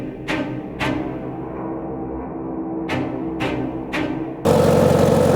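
A Renault Clio 172 with reworked exhaust runs steadily, its low engine note holding under several sharp knocks or clicks, then a louder, denser burst of sound takes over near the end.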